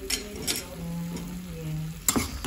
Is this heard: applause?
no